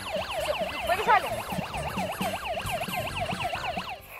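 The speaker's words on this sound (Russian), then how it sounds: "Включаем сирену." A toy firefighter helmet siren wails in fast, regular up-and-down sweeps, loud and close, running steadily for several seconds before cutting off.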